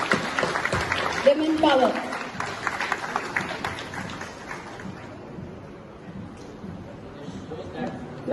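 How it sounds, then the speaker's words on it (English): Workshop audience applauding award runners-up, a burst of clapping that fades over several seconds, with talking voices through it. "A big round of applause for them."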